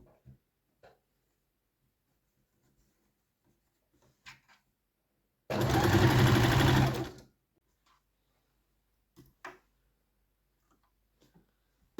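A sewing machine runs in one loud burst lasting under two seconds, whirring steadily amid otherwise quiet surroundings broken only by a few faint clicks and taps.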